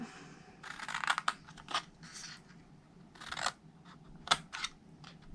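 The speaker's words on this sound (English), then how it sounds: "now we're going to cut these 2 squares straight." Scissors cut paper squares for a chocolate snowman display box, giving several separate snips and scratchy tearing strokes at close range over a low hum, with no talk.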